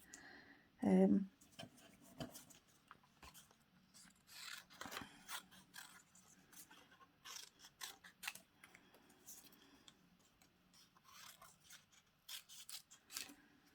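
Hand-cutting paper leaf shapes with scissors at a craft table: one loud close snip early, then a series of softer, scattered snips and rustling paper.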